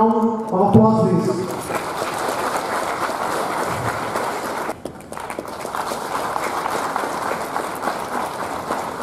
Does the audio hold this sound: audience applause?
yes